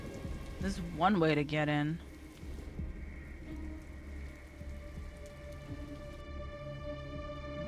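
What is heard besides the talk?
rain and thunderstorm in video game Detroit: Become Human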